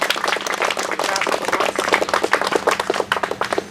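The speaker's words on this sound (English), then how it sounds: "if everyone in the audience, one last round of applause for all of them" An audience at a handover ceremony claps in a brisk round of applause, close and lively, the individual claps growing more distinct as it tapers off.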